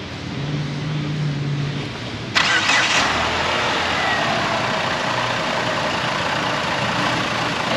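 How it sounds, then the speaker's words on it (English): A rough-running 2007 Chrysler PT Cruiser 2.4 engine is restarted: steady background noise, then a sudden loud crank and catch a little over two seconds in, settling into a continuous, rough idle. "Restarting the engine."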